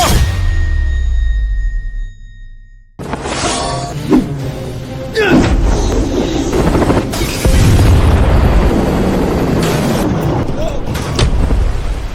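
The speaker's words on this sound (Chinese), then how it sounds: "扔手雷，炸死他们！" A grenade blast in a Chinese action drama: a deep boom hits after a brief hush, then shattering debris and rumbling effects carry on loudly for several seconds.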